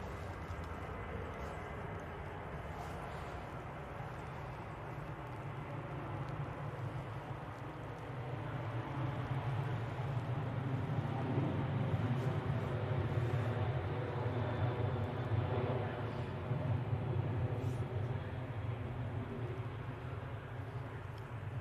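An easyJet airliner takes off at Manchester Airport, a broad steady engine roar that swells and holds for about twenty seconds, with faint voices in the background.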